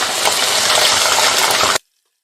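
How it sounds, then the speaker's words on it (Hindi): Beef mince and six whole chillies fry in a pan with a loud, steady hiss and sizzle that cuts off abruptly after about two seconds. "ये मैं 6 अदद साबुत मिर्च डाल रही हूँ और साथ ही मैं इसके कीमा डाल दूँगी।"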